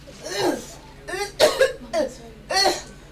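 Several harsh coughs in short bursts, close and fairly loud, spaced across a few seconds.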